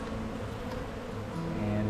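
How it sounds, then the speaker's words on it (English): Honeybees buzz in an opened hive box in mid-April, near Jacksonville, North Carolina: a close, continuous droning hum that swells slightly toward the end. "There's a decent amount of bees in the box."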